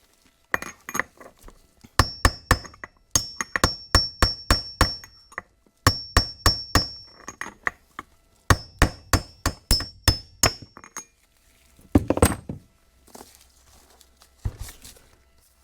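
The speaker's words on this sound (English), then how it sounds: "you want to kind of tap all the way around the bushing instead of just hammering on one spot" A hammer taps a bushing into the hub of a John Deere S100 mower, sharp metallic strikes in quick bursts of five or six, with short pauses between groups, close and clear.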